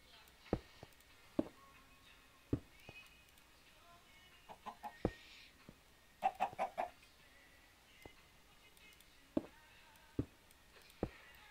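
Chickens in the Minecraft video game cluck in short, separate bursts, faint and scattered over quiet background sound, with a quick cluster of clucks near the middle and no talking.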